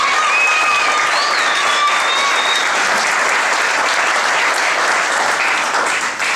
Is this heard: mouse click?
no